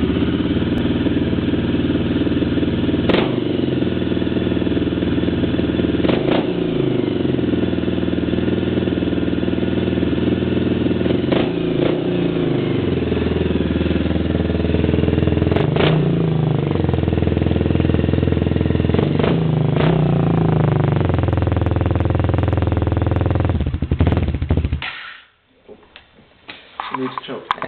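A 1997 Suzuki DR 350 motorcycle with a Ti-4 exhaust runs close by, its steady thumping engine revving in repeated swells for about 25 seconds before cutting off abruptly.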